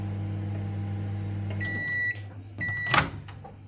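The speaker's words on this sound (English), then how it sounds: "just put the kitchen roll, then the toast and the cheese in the microwave" A microwave oven hums steadily while heating cheese on toast set on kitchen roll, then stops with a sequence of electronic beeps and a door clunk opening, heard close in a quiet kitchen.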